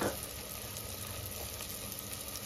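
Chilli powder and coriander powder fry in hot oil, a steady close sizzle with a dense, even hiss that holds throughout the short stretch with no voices.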